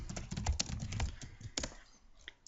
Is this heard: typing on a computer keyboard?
yes